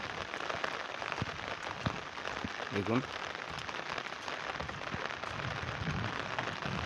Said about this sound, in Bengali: মুষলধারে বৃষ্টি পড়তেছে